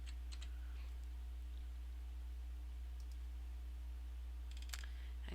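Faint bursts of computer keyboard typing, a few quick key clicks near the start and a short cluster near the end, over a steady low hum, with no talk.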